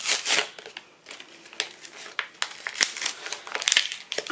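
Plastic packaging around a set of water brushes with three different tips is torn and crinkled open up close, in bursts of sharp crackling and rustling with short pauses between handfuls.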